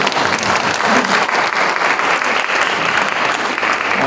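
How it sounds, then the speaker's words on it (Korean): An audience at a church mission forum breaks into loud, dense, continuous applause that holds steady for several seconds, with a faint voice beneath it. "박수 치셔야 됩니다."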